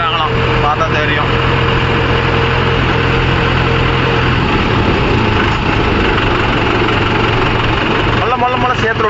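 Mahindra 415 DI 40 hp tractor engine running with a spring nine-tine cultivator, a loud continuous diesel rumble and vibration throughout, with voices talking over it.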